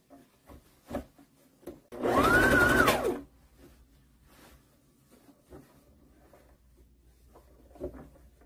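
Sewing machine stitching the facing of a rayon sleeveless dress, one loud burst of about a second amid quiet handling and fabric rustles.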